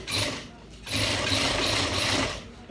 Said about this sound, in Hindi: तो ऐसे सिलाई करेंगे हम